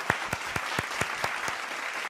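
Crisp, evenly spaced hand claps, about eight in a steady rhythm, close and fairly loud, with no talking over them.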